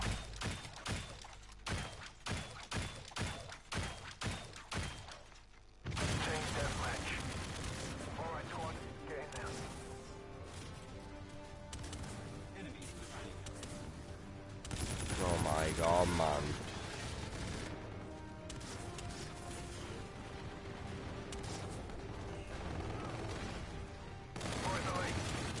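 Sniper and other gunfire in an online shooter game, dense bursts of rapid shots and heavy cracks that swell and fade across a long stretch, with a player's voice faintly underneath.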